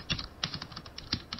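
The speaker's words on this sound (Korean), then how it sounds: "남자가 키보드를 치면서 말하고 있다" Generated keystrokes of a man typing on a computer keyboard, a quick run of soft, close clicks in an irregular rhythm with no voice heard.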